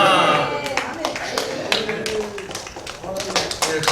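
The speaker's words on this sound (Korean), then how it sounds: "박수 한 번 더 해주시기 바랍니다" Applause from a church gathering audience, a scattered run of individual claps that continues throughout, mixed with speech.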